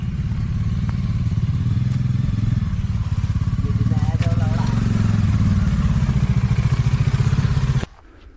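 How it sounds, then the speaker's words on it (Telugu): A Bajaj Dominar 400 motorcycle engine rumbles loudly nearby at a steady chugging idle, then shuts off abruptly near the end, leaving quiet. "బండి అయితే వస్తుంది మనది"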